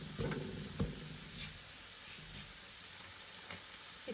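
Layered lachha paratha cooking on a hot tawa, a soft, continuous sizzle with a few light taps and scrapes, faint and close, with no talking.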